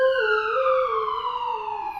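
A wailing emergency siren glides slowly up and down in pitch, strong and continuous, then gradually fades as it pulls away toward the end.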